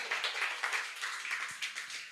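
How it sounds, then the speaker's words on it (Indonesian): A meeting audience claps together in a dense burst of quick, overlapping hand claps, sustained and fairly close for a couple of seconds. "tepuk tangan dong buat Prudential"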